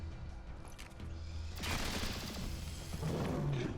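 Gunfire in XCOM: Chimera Squad, a burst of rapid shots and booms that erupts partway through over a low game rumble.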